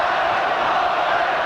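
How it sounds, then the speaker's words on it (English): Stadium crowd at a 1984 State of Origin rugby league match, a brief, loud, continuous roar of many voices that does not resolve into a clear chant. "Now the crowd's starting to chant Wally, Wally."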